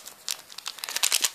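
Close crinkling of a Popin' Cookin' sushi kit's plastic packet as scissors snip it, a short burst of crisp rustles and crackles.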